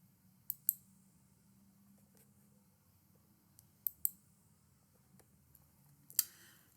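A computer mouse gives a few faint, sharp clicks at irregular intervals, alone in a quiet room: one pair early, another pair midway and a last click near the end.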